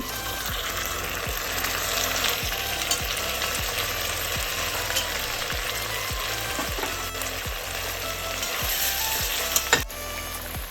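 Three tomatoes sautéing in a pan for fish biryani, a dense continuous sizzle with a regular clicking, ratchet-like pulse running beneath it, close and without talk.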